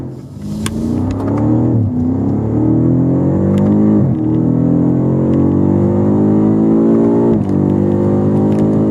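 A BMW F90 M5 Competition V8 revs loud and close for the whole stretch, its pitch climbing and then snapping back at each gear change, with a steady deep rumble underneath and no one talking.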